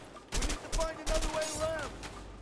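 Bursts of rapid gunfire in the video game A Way Out crackle in short volleys, separated by brief pauses, sharp and close.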